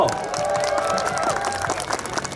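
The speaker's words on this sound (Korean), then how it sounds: "박수 한 번 해주십시오" An audience claps at a family Halloween event at Lotte World Tower, with moderate, scattered applause and some crowd murmur, while a tonal sound lingers in the background.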